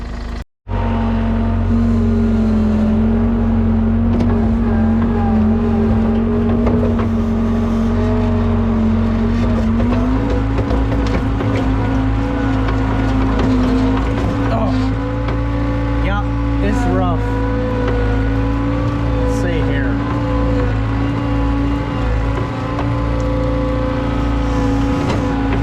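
A loader machine scrapes a dirt area, its diesel engine droning loud and steady throughout, with pitch rising slightly as it works and a few clanks over the engine.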